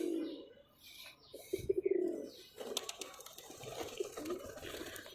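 Pigeons coo in soft, low, throaty bursts close by on a rainy day, repeating several times over faint rain, with small rustles and light clicks in between and no voices.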